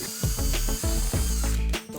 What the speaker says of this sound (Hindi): होल करने के लिए हमारे पास ये ड्रिल मशीन है, तो इससे हम यहाँ पर होल करेंगे।